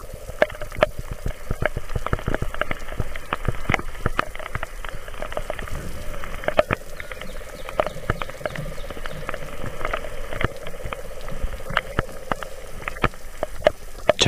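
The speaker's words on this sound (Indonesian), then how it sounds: "Hujan semakin deras" Heavy rain pours on a steep mountain trail up Gunung Salak, a dense, close, unbroken patter of drops with sharper splashes scattered throughout and no voices.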